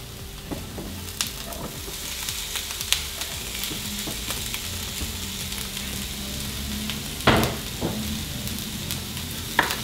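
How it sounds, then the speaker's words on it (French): Bell peppers sizzle in a pan with onion and garlic, a steady crackling fry broken by a few sharp clacks of stirring utensils, with no voices. "Quand l'oignon commence à devenir transparent comme ça là, hop, je vais venir rajouter les poivrons."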